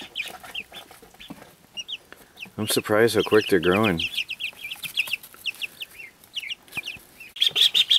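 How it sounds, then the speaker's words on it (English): Ducklings peeping in high, rapid chirps throughout, close by, while a person talks over them and a louder clucking call breaks in midway. "Ah, little ducks. They're happy birds."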